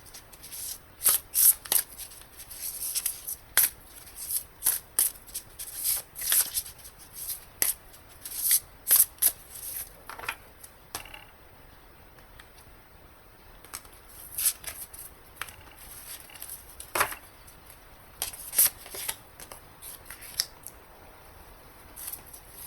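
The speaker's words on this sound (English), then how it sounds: "Now I'll shuffle and select 1 card from the Tao Oracle deck." Tao Oracle deck cards being shuffled by hand, repeated crisp riffling bursts in an uneven rhythm, close and clear with no talking.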